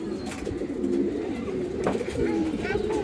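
Pigeons coo in low, rolling murmurs that overlap steadily at a pigeon sale, with a person talking over the flock's cooing.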